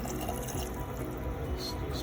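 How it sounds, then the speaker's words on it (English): Three-quarters of a cup of vinegar poured into a simmering pot of peppers, giving a steady, close liquid pouring and splashing sound that lasts throughout with no talking. "Let's just pour that in there."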